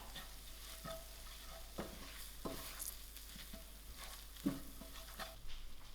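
Gram flour fries with spices in a pan on low heat, a quiet soft sizzle broken by repeated spoon scrapes and stirring clicks, close and without voices.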